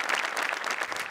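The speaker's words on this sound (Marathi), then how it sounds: "मोठे सरांसाठी एकदा जोरदार टाळ्या" A studio audience at a comedy show claps in a brief burst of applause, many hands at once, steady and fairly close, with no speech.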